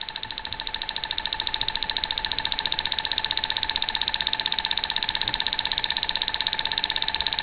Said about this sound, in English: So there you are, you have the two engines moving.